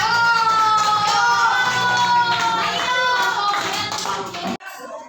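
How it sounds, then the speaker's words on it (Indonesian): Students in an Indonesian classroom clap for the girls' group, with steady, fairly close clapping and some children's voices mixed in, before it cuts off abruptly near the end. "tepuk tangan dulu untuk kelompok perempuan"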